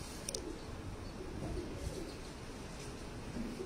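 Pigeons coo softly in the background, low murmuring calls under a steady hiss of room noise, with a brief faint high chirp near the start and no clear speech.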